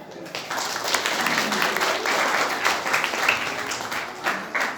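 Applause from a gathering at a school tree-planting event, dense steady clapping that fills the whole stretch, fairly loud and continuous with faint voices mixed in.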